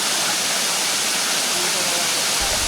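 A muddy, rain-swollen waterfall near Port Barton, Palawan, fed by landslide runoff, gives a loud, steady broadband rush of falling water that fills the whole moment without a break.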